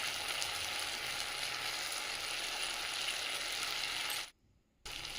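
Chhatu with turmeric frying in a pan, a steady bright sizzle with faint stirring scrapes, close and continuous, briefly cutting to silence near the end.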